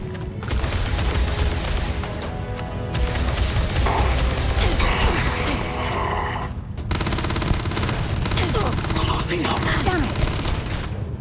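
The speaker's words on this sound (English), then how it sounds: "this is actually a pretty good rate of fire, this laser rifle here" A laser rifle fires in rapid sustained bursts in the video game Starfield, with dense repeated zaps and mechanical clatter almost continuously, broken by a brief pause near the middle, under occasional game sounds.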